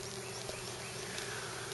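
Swarming bees fly around outdoors near a tree limb, making a steady, dense buzz of many insects that holds evenly throughout with no voices.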